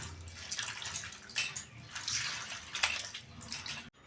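Water runs and splashes while small fish are washed, producing uneven close-up bursts of tap flow and sloshing that end abruptly.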